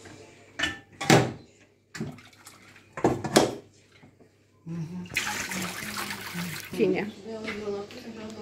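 Water runs and splashes in a kitchen sink in intermittent bursts, then flows steadily, while a man cooks a chicken and potato dinner and talks over the sound.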